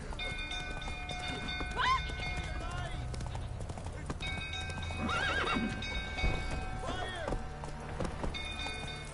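A horse in a video game gallops with steady rapid hoofbeats and lets out several whinnying neighs, mixed with a busy game soundscape and voices talking.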